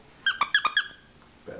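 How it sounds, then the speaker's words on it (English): A squeaky dog toy for a newly adopted whippet mix puppy gives five quick, sharp squeaks in a rapid burst, close and loud, followed by near silence. "All right, squeaky toy."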